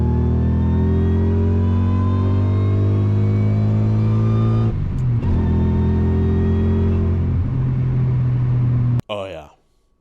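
Supercharged Subaru Legacy with a six-cylinder boxer engine and manual gearbox accelerating hard, a loud, steady engine drone that climbs in pitch, dips briefly at a shift, then drops away into a short burst of talk at the end.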